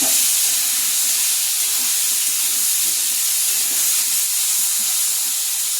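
Potatoes fry in a pan while a hilsa head and cabbage curry is being made, a steady broad sizzling hiss that holds evenly and close throughout with no talk.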